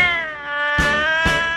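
A single long, drawn-out cat meow, close and clear, with a couple of soft thumps in the background.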